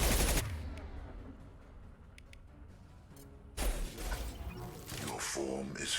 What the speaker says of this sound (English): Concussive shot ready.